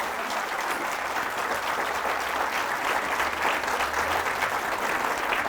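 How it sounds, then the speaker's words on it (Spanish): A church congregation at a Catholic Mass led by a priest applauds vigorously, a thick, sustained roar of clapping from many people that holds steady throughout. "Fuertes aplausos al Rey de Reyes y Señor de Señores."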